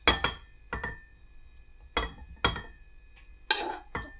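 A glass food container being put away, giving about eight sharp clinks and knocks in irregular pairs, close and clear with nothing else around them.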